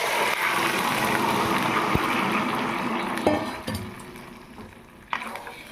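Fried jute greens are stirred in a pan, giving a constant close sizzle with a wet bubbling edge, broken by a few clinks and scrapes of a utensil on the metal toward the end.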